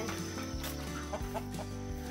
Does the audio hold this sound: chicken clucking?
yes